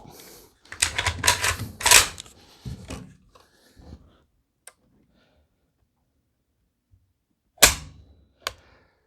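A Fostech Origin 12 shotgun trigger is pulled against a trigger gauge: a cluster of mechanical clicks and rattles early, then isolated sharp snaps later amid near silence, close and crisp.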